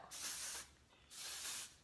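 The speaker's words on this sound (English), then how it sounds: "as I spray this all on my face" Two short bursts of aerosol texture spray hiss close by as it is sprayed onto hair, separated by a brief pause.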